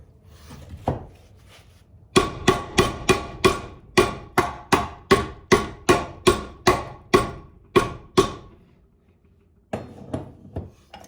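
A hammer strikes metal on a 1986 Cutlass lowrider in a steady series of sharp, ringing taps, about a dozen evenly spaced blows, then a few quieter knocks after a pause.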